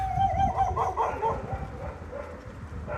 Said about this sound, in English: we've got some angry dogs about